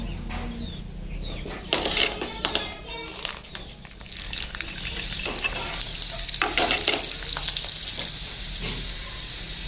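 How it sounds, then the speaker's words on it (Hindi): Finely chopped garlic and whole dried red chilies dropped into hot oil for a dhaba-style chana dal tadka, bursting into a loud crackling sizzle with stirring scrapes, close by and continuous. "तो ऑयल हमारा गर्म हो चुका है, तो इसमें हम डाल देंगे लहसुन को बारीक कटे हुए लहसुन"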